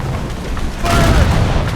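Ship cannon fire in a naval battle in Assassin's Creed Rogue, set on the open sea in a snowstorm. Heavy rumbling booms build and swell midway, with a dense low roar of blasts and no talk.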